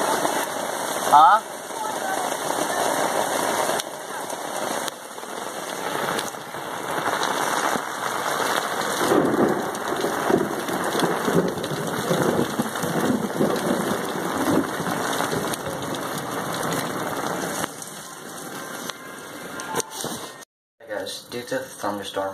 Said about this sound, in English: Due to the thunderstorm outside right now,